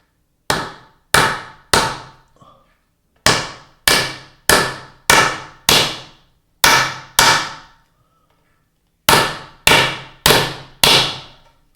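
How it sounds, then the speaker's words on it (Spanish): A hammer taps a small wooden block to drive expansion wedges into a wedged through mortise-and-tenon joint: sharp, close wooden knocks in bursts of two to five, with short pauses between groups and no talking. "cogemos un taquito y el martillo y vamos golpeando desde arriba"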